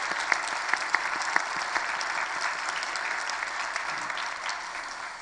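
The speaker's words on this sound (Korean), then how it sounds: "우리 박수 한번 하겠습니다." A church congregation claps together at a New Year's Eve worship service, a steady dense patter of hands filling the room for about five seconds before easing slightly at the end.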